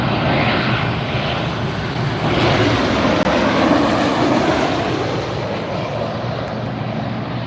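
An airliner roars in close and loud on final approach to land at LAX, a broad steady jet rumble that swells slightly mid-pass and holds without pause, no voices over it.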